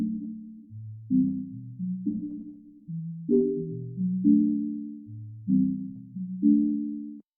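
SKY keys piano VST playing a slow chord progression, clean sustained chords struck one after another in an even rhythm, each ringing out and decaying before the next, alone with no voice.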